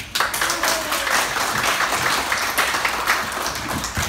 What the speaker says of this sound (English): I want us to give a good hand of applause to all the